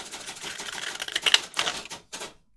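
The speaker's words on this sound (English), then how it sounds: "Sounds nice, your typewriter." Close, brisk keystrokes clack on a typewriter in a quick irregular burst, ending with a couple of sharper strikes and a short pause, with no talking.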